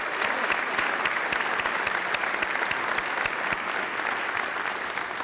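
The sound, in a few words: applause for David at memorial service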